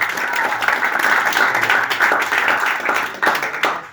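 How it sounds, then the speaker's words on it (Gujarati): A gathering at a meditation centre bursts into loud, dense applause that holds steady for several seconds before thinning out. "તો એ હિસાબે તો આપણા બધા માટે એકવાર તાળીઓ થઈ જાય"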